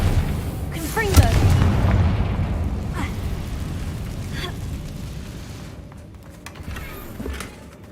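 A Confringo fire spell bursts in Hogwarts Legacy, one sharp booming blast that fades into a low rumbling tail beneath steady game ambience.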